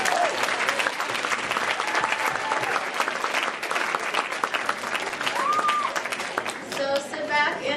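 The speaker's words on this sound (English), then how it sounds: "I'd like to give Andy Wood a round of applause for putting together the video." A school audience at a senior breakfast gives a round of applause, sustained dense clapping with scattered cheers and voices mixed in, easing slightly toward the end.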